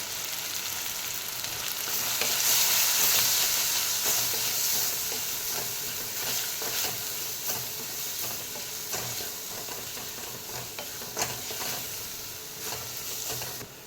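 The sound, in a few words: frying mushroom curry spices in a pan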